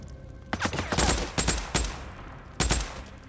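Gunfire in the video game Days Gone: a quick fusillade of sharp shots in uneven bursts, several close together and then a final pair after a short pause, with no talking.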